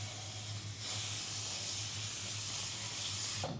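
Water sprays and hisses steadily from a tap over freshly cut wheatgrass in a tray, a close, even rush with a low hum beneath, ending abruptly.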